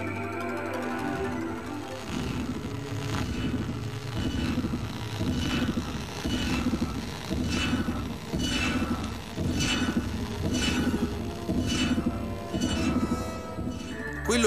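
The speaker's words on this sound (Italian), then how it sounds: "Quello che avete sentito è un messaggio radio di origine aliena captato da un radiotelescopio terrestre." A radio signal of alien origin from the film Contact, picked up by a radio telescope: a steady rhythmic series of pulsing bursts over a droning, noisy background, moderately quiet.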